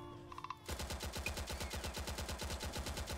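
Rapid automatic gunfire in the Roblox-style combat game Combat Warriors, a few short clicks followed by a loud, sustained burst of evenly spaced shots firing continuously, with no talking.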